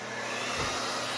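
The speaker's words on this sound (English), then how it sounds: "we're gonna turn this hair dryer on now" A hair dryer running on a Powerjack 12000 low-frequency inverter gives a steady, close, broadband whoosh with a faint low hum beneath it, unbroken throughout with no voices.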